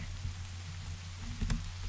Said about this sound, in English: Let's come over here while it's raining.